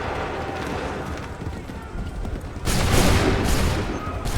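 Musket volley from a line of soldiers in Assassin's Creed III, a loud broadband burst of gunfire erupting partway through and ringing on over a busy battlefield din with shouting voices.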